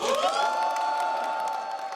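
A large audience at a Rotary district gathering cheers and whoops loudly, with sustained shouting voices and clapping blended into one steady, bright roar.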